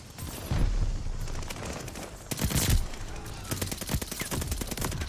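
MP40 submachine gun fire in a video game on the Shipment map, several rapid automatic bursts with sharp repeated cracks, loud and close, with a voice talking at times over the shooting.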